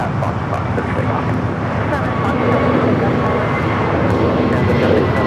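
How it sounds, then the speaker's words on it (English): A Volaris Airbus A321neo airliner taking off from LAX runway 25 right toward Guadalajara, a loud continuous broadband engine roar that holds steady throughout, heard from a distance with wind noise. "This is Volati 1715 taking off to Guadalajara on the A321neo."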